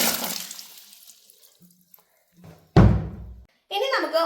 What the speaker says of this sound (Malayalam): അപ്പൊ നമുക്ക് ഇതിലേക്ക് 5 ലിറ്റർ വെള്ളം ഒഴിച്ചു കൊടുക്കാം.